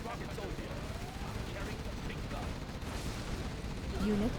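Rumbling gunfire in the video game Zero Hour, dense and continuous under someone talking, with a louder burst near the end.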